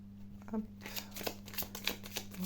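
Tarot cards being shuffled by hand, a series of soft papery riffles and flicks at close range over a steady low background hum.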